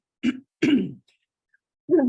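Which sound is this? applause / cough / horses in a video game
cough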